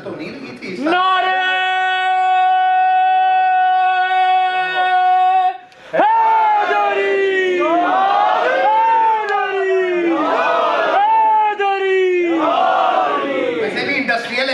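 A large religious gathering on the first of Muharram chants slogans in unison, loud, rhythmic call-and-response bursts following a sustained held note from a leader, filling the space without pause.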